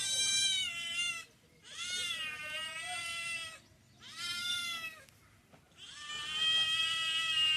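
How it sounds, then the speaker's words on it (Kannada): A domestic cat meows in long, drawn-out calls, four loud wailing cries separated by short pauses, close by with little else around. "ನೋಡ್ರಿ ಬೆಕ್ಕು ನೋಡ್ರಿ ಹಂಗೆ ಮಾಡಕತ್ತೈತಿ"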